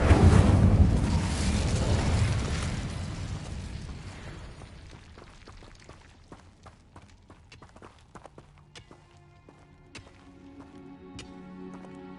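Incendio fire spell and Confringo blasting spell in the Hogwarts Legacy video game: a loud roaring blast that fades over several seconds, followed by scattered clicks and pops in quieter game ambience.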